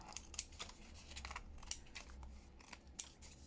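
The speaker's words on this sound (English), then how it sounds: "So let's cut this down. I don't know how these scissors are going to fare" Modest-quality scissors snip through a paper journal card in several quiet, crisp, irregular cuts, heard close and alone.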